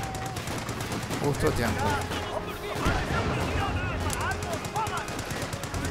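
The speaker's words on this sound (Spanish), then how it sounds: "El enemigo nos está disparando." Rapid enemy machine-gun and rifle fire crackles through a Company of Heroes 2 battle, bursts rolling steadily across the scene while someone speaks briefly over it.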